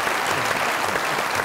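Studio audience at a comedy talk show breaks into steady, dense applause, a continuous wash of clapping heard up close without pause.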